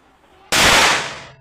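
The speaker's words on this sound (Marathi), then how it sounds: "दिवाळीमध्ये जे फटाके वाजवतात त्याप्रमाणे हा फटाका वाजतो का बघूया" A homemade phosphorus firecracker fired from a jugaad machine goes off in a single sudden, loud blast after a quiet pause, then its roar slowly fades away over the next second.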